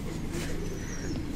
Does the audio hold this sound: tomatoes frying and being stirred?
no